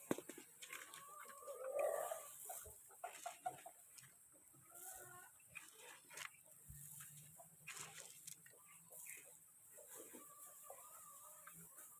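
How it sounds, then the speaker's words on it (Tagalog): Chickens cluck softly in an outdoor yard, with scattered faint calls and bird sounds over a quiet, distant background; no one speaks. "Parang manok ah."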